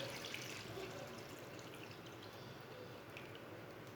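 Water pours steadily into a pot of soaked white chickpeas, a soft continuous splashing trickle at low volume with no talk.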